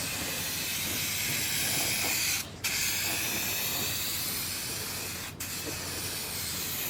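A continuous hissing spray of paint from a spray can onto a 1972 Camaro roof skin, loud and close, broken by two brief pauses as the nozzle is released and pressed again.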